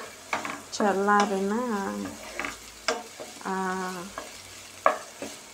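Sliced okra frying over a medium flame in a pan while being stirred, with soft sizzling and scraping under someone talking in short bursts.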